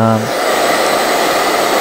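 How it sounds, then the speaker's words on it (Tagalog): An electric air blower roars loudly and steadily while clearing dust from an AV-502B amplifier under repair, a broad hissing rush that starts abruptly after a brief voice and continues unbroken. "binugahan ko na siya ng blower"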